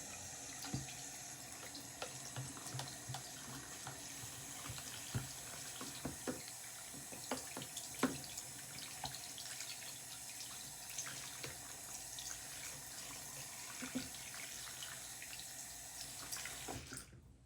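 Water runs steadily from a tap into a sink, a continuous splashing stream with small clatters and knocks throughout, ending abruptly near the close.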